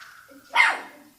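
A dog lets out a single sharp bark, moderately loud and close, after a brief stretch of faint tonal background sound.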